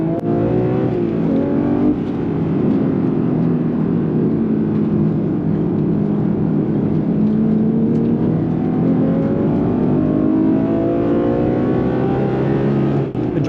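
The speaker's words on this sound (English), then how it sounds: "So let's experience the most powerful 911 Turbo S of all time once again." Porsche 911 Turbo S, the most powerful version, driving on a track, its engine droning steadily and loudly throughout with rising and falling pitch as it accelerates and holds speed, no talk over it.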